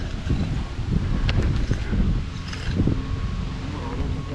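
Strong wind gusts outdoors at a stamped concrete patio job site, a steady low roar buffeting the microphone without a break.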